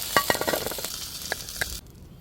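Carrot fries in olive oil for mechado, with a close sizzle broken by light clinks of a utensil against the pan before the sound drops away abruptly.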